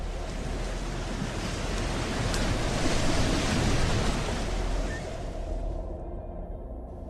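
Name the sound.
ocean waves on a shoreline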